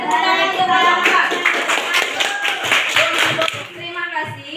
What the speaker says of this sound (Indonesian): Oke, beri tepuk tangan untuk Bapak.